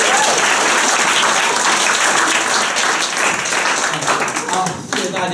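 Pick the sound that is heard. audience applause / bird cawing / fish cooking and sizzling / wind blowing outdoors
audience applause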